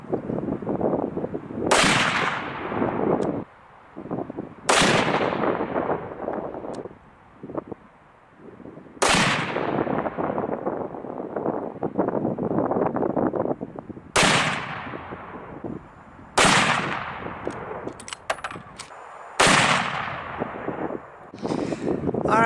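.30-06 rifle shots ring out at a range during a load work-up with 46-grain powder charges, about seven loud, sharp reports spaced a few seconds apart, each trailing off into a long echo, with wind noise between them.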